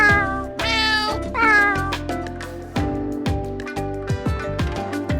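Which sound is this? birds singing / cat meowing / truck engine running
cat meowing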